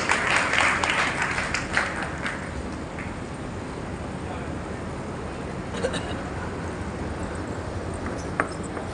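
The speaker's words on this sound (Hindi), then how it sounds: "देखिए तालियां होनी चाहिए बच्चे के लिए" Applause for a child at a community organization's family gathering and ceremony in India, a brisk burst of clapping that settles into a steady, moderately loud patter with a few sharper claps.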